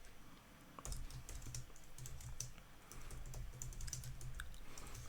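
Someone types a sentence on a computer keyboard, a quick, uneven run of close key clicks that begins after a brief pause and then continues without talk.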